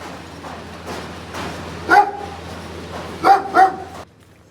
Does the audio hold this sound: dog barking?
yes